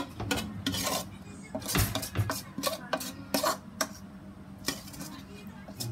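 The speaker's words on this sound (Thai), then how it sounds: "ขูดหม้อดีครับ" A metal utensil scrapes and stirs around a pot while cooking Thai tray-style mixed noodles, with repeated clinks and rasping strokes close by, plus faint talk in the background.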